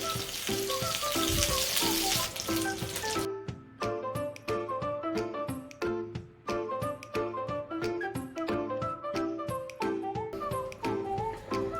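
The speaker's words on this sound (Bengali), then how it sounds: "আমি দুটো শুকনো মরিচ, 3 কোয়া রসুন ভেজে তুলব।" Dried red chilies and garlic cloves frying in hot oil, a loud continuous sizzle close up with dense crackling pops and spatter throughout, no talking.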